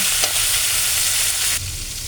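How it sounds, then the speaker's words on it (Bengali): Chopped onions fry in mustard oil in a kadai with a steady, loud, close sizzle and faint stirring throughout, easing slightly near the end. "পেঁয়াজগুলোকে আমি লাল লাল করে এখন ভেজে নেব"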